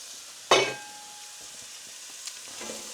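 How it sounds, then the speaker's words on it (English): Onions and carrots frying in a pan: a sharp metallic clatter opens, followed by a quieter, steady sizzle with a few faint stirring knocks. "we're going to fry these off for 2 or 3 minutes until the onions have started to soften up a little bit"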